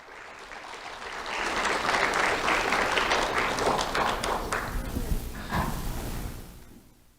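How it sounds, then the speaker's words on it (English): Applause for Levi Townsend at a sheriff's office awards ceremony, a dense burst of clapping from an indoor audience that swells within a second, holds steady for several seconds, then fades out. "Round of applause for Levi Townsend."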